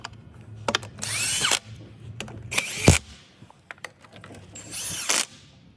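A power tool gun snugs down the wheel nuts on a 2019 Veloster, giving three loud, short bursts of whirring and rattling spaced a couple of seconds apart, with small clicks and handling noise between them.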